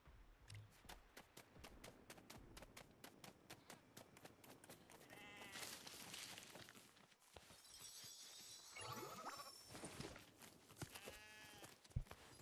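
Lego Fortnite cows and other farm animals mooing and bleating, several overlapping calls over a dense stream of rapid clicking footsteps, fairly faint overall.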